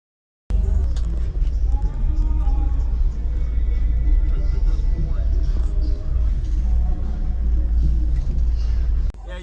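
A pair of 1,250-watt 18-inch subwoofers plays deep bass that reaches down to 15 hertz. After a short silence, a loud, steady, booming rumble starts suddenly, holds for several seconds and cuts off near the end.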